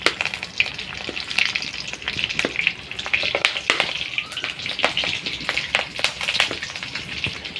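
Green chillies, cardamom, cinnamon, cloves and bay leaf frying in a little hot oil in a kadai for chicken curry, a lively crackling sizzle with sharp irregular pops throughout, no talking.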